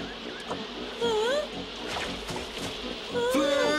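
Cartoon bees buzz in a busy swarm, rising and falling whines sweeping past in repeated bursts, loud and close, with no talking over them.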